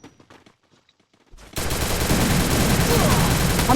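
Video game gunfire erupting after a quiet stretch with faint voices, then a loud, sustained barrage of rapid shots that continues to the end.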